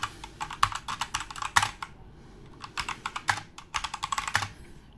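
Keys on a Drevo Tizona mechanical keyboard clack in quick irregular bursts of typing, close and crisp, with brief pauses between runs and no voice.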